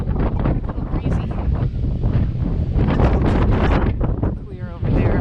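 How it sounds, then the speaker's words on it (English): Strong wind on a mountain summit buffets the microphone in a constant loud roar with gusty surges, and a person speaks briefly under it. "Breezy."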